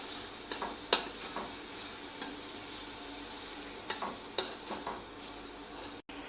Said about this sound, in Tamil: நம்ம இதில் தக்காளி சேர்த்துக்கலாம். தக்காளி நல்லா வதங்கட்டும்.